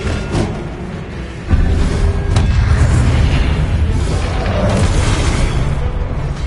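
A Confringo fire spell exploding in the Hogwarts Legacy video game on PS5, a loud sudden boom erupting after a quieter opening and rolling into a heavy, sustained rumble of blast and debris.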